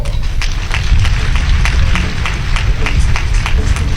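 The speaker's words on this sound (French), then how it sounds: "que je vous demande d'applaudir fort" Audience applause at a closing mass for the 11th edition of Wemexwe in Bonou, a steady wash of many hands clapping with crowd noise, loud and continuous throughout.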